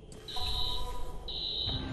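Alarm tripped inside Blume HQ in the video game Watch Dogs: two long, steady high-pitched electronic alarm tones, each lasting about a second, separated by a brief gap, sounding over a low ambient game rumble.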